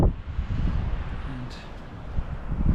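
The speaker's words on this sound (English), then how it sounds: "It's just pretty windy still at the minute" Steady, strong wind roars across the microphone at a campsite near the sea at Tyneham Village, a broad rushing noise that swells and buffets throughout, with a brief faint tone partway through.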